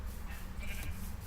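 A sheep in the Minecraft video game gives a single short bleat, fairly close and clear against quiet background sound.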